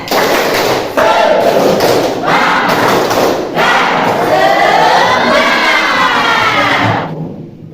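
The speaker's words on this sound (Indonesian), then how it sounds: "coba kita tepuk semangat dulu ya" A classroom of students performs a rhythmic spirit clap, loud group claps and thumps in repeated patterns with shouted chanting between bursts, ending abruptly.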